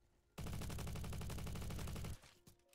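Rapid automatic AUG SMG fire in a video game: one sustained burst of dense, evenly spaced shots lasting nearly two seconds, loud and close, ending abruptly and followed by a few faint clicks.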